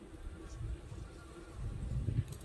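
Honey bees buzzing around a hive in an apiary, a soft continuous low drone with gently fluctuating intensity, close but faint, no voices.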